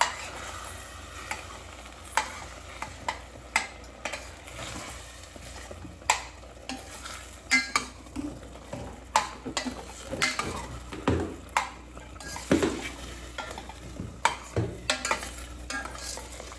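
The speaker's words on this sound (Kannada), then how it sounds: "ಮಸಾಲೆ ಎಲ್ಲ ಫ್ರೈ ಆಗೋದಕ್ಕೆ ಬಿಡಬೇಕು" Masala frying in a pan while being stirred, soft sizzle under repeated sharp clacks of the spoon against the pan, fairly quiet and close, with no talking.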